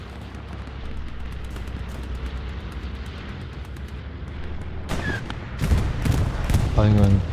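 In the World War II shooter Hell Let Loose, a bombing run and gunfire fill a competitive match with a continuous roar of rumbling blasts. Sharper, louder shots burst in near the end, and a voice briefly speaks over them.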